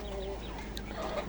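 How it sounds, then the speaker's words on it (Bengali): Antibiotic-free desi chickens clucking softly in a brief burst, a few short calls over steady low background noise. "অ্যান্টিবায়োটিকবিহীন এই মুরগিগুলো"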